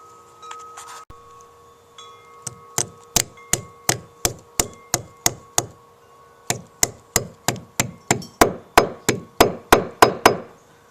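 A hole is drilled into a brick wall with a hammer drill, giving a steady run of sharp, evenly spaced impacts, two bursts separated by a short pause, close and fairly loud with no talking.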